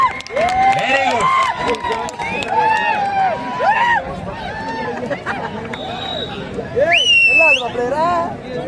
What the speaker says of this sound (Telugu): చప్పట్లతో ఎంకరేజ్ చేయాలండి